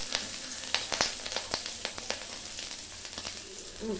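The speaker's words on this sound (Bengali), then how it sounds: "কালো জিরে আর কাঁচা লঙ্কা ফোড়ন দিয়ে" Amudi fish frying in oil with a black cumin and green chili tempering: a steady close sizzle with scattered sharp pops and crackles throughout.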